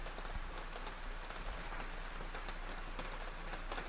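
Pouring rain falling steadily on a muddy surface, a dense continuous hiss with scattered drop patters, no voices.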